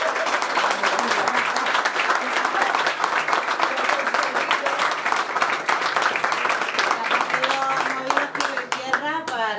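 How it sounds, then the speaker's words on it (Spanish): Audience applause at the closing ceremony of a cybersecurity specialization course, sustained loud clapping from many hands for most of the stretch, with voices rising over it toward the end. "Por favor, un aplauso para ella."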